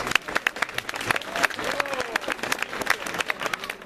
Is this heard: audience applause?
yes